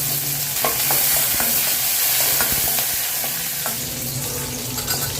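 Curry leaves fry and sizzle in a pan while a spoon stirs, giving a continuous crackling hiss with intermittent scraping clinks, close and steady without talk.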